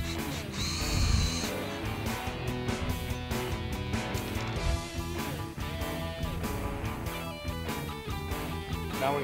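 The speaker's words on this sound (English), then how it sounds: "now we're gonna run our screws in to the top of it" A power drill drives screws into the top of a wooden bed frame inside an enclosed trailer camper conversion, with repeated short motor bursts and clattering knocks over several seconds, fairly close.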